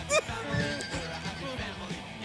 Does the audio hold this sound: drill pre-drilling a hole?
no